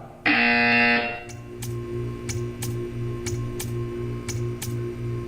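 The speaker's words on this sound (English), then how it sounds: "You will hear a buzzer" A loud, harsh buzzer in Portal 2 sounds once for about a second, followed by a series of sharp, evenly spaced ticks over a rhythmic mechanical pulse.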